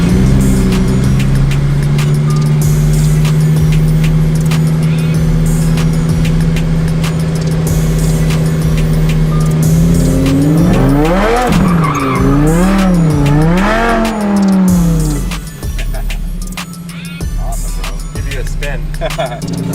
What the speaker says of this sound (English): We're gonna get a little ride in the DDE Supercharged Huracan.